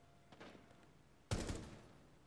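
Gunfire in the tactical shooter Rainbow Six Siege: a faint burst early on, then a loud, abrupt volley of close shots that decays over about a second, with no talk.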